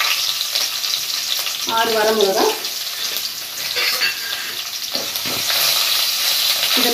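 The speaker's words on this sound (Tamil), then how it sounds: "வரமிளகாய், இதை நல்லா வதக்கி பிளேட்டில் எடுத்து வச்சுக்குவோம்." Urad dal and dry red chillies sizzle steadily in hot oil in a pan, making a loud, continuous frying hiss. Stirring sounds and a brief spoken word come through over it.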